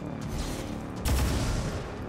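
Gunfire in the video game XCOM 2, a dense burst of shots under a steady game-ambience bed, jumping louder about halfway through and staying close and sustained to the end.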